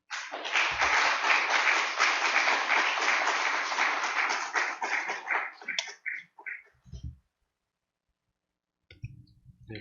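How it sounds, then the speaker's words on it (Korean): A church audience at a mission policy seminar breaks into dense, loud applause, the clapping rolling steadily for several seconds before thinning into scattered claps and fading to silence, with a faint trickle of sound near the end. "다시 한번 박수 한번 보내주셔서 감사하겠습니다"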